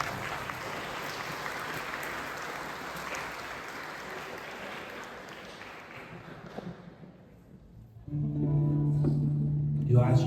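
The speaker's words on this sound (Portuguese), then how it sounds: "Então aplauda esse irmão que está do seu lado." An audience at a Catholic consecration gathering applauds with a steady patter that slowly fades out, and then a voice starts speaking close by.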